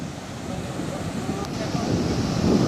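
Ocean waves wash onto a sandy intertidal shore in steady broadband surf, a continuous rush that swells slightly louder toward the end, with wind noise mixed in.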